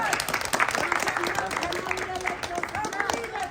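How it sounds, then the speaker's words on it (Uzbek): An audience claps together in warm, sustained applause, a dense patter of many hands at moderate distance that continues through the whole moment. "Yoqqan bo'lsa bitta chiroyli qarsak chalib qo'ying"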